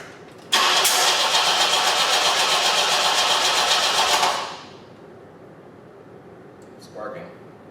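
The engine of a 1973 Opel Ascona left abandoned for years cranks loudly and close for about four seconds, whirring steadily without catching, then cuts out. A brief voice follows in the quiet afterward.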